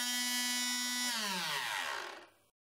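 A DIY CNC milling motor, built from hardware-store materials, drilling a 3 mm hole: a loud, steady high-pitched whine that drops in pitch as it spins down and cuts off.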